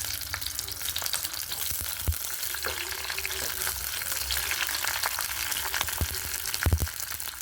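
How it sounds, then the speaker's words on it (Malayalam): Cashews and raisins frying in hot ghee for aval payasam, a soft continuous bubbling sizzle with occasional sharp ticks and pops from the pan. "ഇനി പായസത്തിലേക്ക് അണ്ടിപ്പരിപ്പ്, മുന്തിരി എണ്ണയിൽ വറുത്തിട്ട് ചേർത്ത് കൊടുക്കാം"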